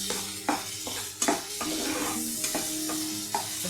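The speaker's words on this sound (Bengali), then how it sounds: "আমি তেলটাতে কালো জিরা ফোড়ন দিয়ে আদা পেঁয়াজ বাটাটা আর লঙ্কা আর হলুদ দিয়ে কষিয়ে নিই" Ginger-onion paste with chili and turmeric fries in hot oil with black cumin seeds, sizzling steadily up close while a spatula scrapes and clinks against the pan in regular strokes.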